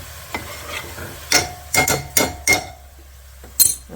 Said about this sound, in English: I'm gonna give it a stir because all of that brown sugar kind of settles to the bottom